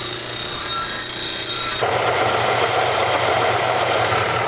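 A saw cuts through metal tube during a drag caddy build, giving a loud, steady grinding rasp that runs continuously and stops abruptly at the end.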